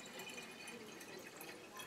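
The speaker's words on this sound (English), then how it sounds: "I used to be able to pour hydrochloric acid like this and don't get it on my fingers." Hydrochloric acid being poured steadily into a container while mixing film developer from raw chemicals, a soft continuous liquid trickle heard close up and alone for the whole stretch.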